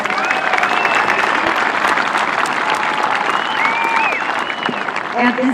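Warm, sustained applause from a large graduation audience at Santa Fe High School, steady and loud throughout with faint cheers and voices rising over the dense clapping.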